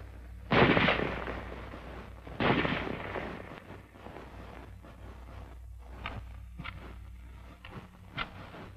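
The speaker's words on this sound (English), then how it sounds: "The rifle will fire each time the trigger is pressed until the magazine is empty." A 1943-era M1 rifle, caliber .30, fires two loud, sharp reports about two seconds apart, each with a lingering crack and decay, followed by softer mechanical clicks and clatter of the action.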